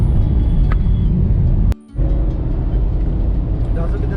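A Hyundai Venue with a 1-litre three-cylinder turbo petrol engine drives along, its engine and road rumble forming a steady, loud drone that briefly dips near the middle before resuming.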